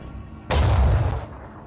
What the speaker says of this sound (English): we're gonna use the Hell Cannon to knock out that one tango over there.